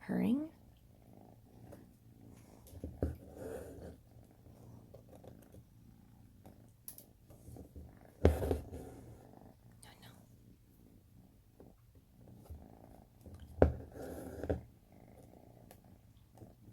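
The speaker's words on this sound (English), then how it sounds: "Can you hear the purring?" A cat purrs steadily and softly, close by, as a low continuous rumble, with faint rustles and brief scratchy handling noises while embroidery thread is drawn through fabric.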